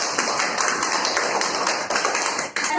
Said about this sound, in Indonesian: Beri tepuk tangan kepada Nabila.